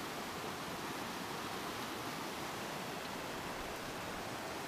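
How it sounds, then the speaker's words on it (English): Albertine Creek, a mountain stream in the Rockies, rushes steadily in a dense, even wash of water noise that stays close and constant throughout, with no voices. "Albertine Creek."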